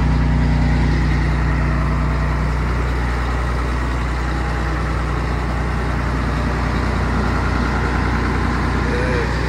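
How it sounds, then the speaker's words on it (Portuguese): A truck engine idles steadily with a deep, continuous low rumble, close and loud, without change in pitch. "O barulho desse carro não tem outro, velho."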